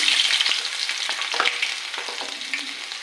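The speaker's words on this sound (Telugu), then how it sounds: "నూనె బాగా కాగిందండి. వెల్లుల్లిపాయ వేస్తున్నాను" Garlic sizzles sharply in hot oil, a close, bright crackling hiss with faint stirring, steady throughout.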